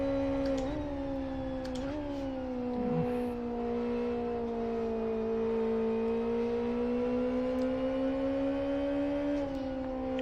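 Race car engine in the driving game Live for Speed, a loud, steady droning tone held at high revs with brief pitch shifts from gear changes, continuing without pause throughout.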